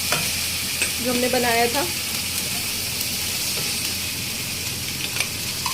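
Masala with ginger garlic paste sizzles in oil for egg korma while being stirred, a steady frying hiss throughout, with a short stretch of speech near the start.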